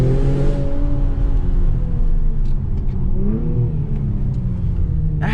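An Infiniti Q50 engine hums steadily, pitch rising and dropping as gears change, with a brief rev climbing midway; close and continuous.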